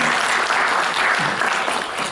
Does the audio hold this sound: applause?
yes